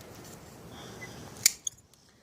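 A single crisp snip of pruning shears cutting through a grapevine branch, sharp and close, followed by a faint small click and rustle against quiet outdoor background.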